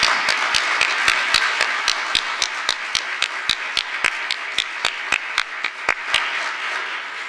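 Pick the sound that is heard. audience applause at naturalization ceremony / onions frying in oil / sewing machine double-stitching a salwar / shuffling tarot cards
audience applause at naturalization ceremony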